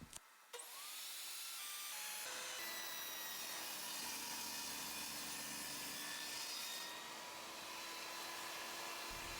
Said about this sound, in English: Next, I'm adjusting the table saw fence so that I can cut the base of the rabbet.